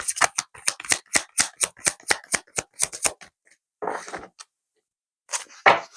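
Tarot cards being shuffled in quick riffling bursts, a rapid rhythmic run of crisp flicks up close, followed by a pause, then a couple of softer slides and flips as single cards are drawn.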